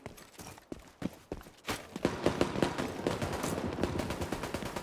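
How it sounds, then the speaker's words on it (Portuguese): Rapid gunfire exchange in The Division 2, with bursts of automatic fire and single shots crackling in quick irregular succession, sparse at first and then dense and continuous, loud and close with no voices. "Aqui tá rolando muita troca de tiro."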